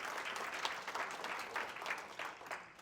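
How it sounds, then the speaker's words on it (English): An audience at a monthly club meeting claps steadily for about three seconds, a dense, even patter of many hands in a room with no voices over it. "So give yourselves a round of applause."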